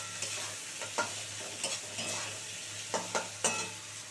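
Vegetables fry in a pan for homemade restaurant-style chow mein, a steady low sizzle broken by irregular scrapes and clacks of stirring, close up with no talk.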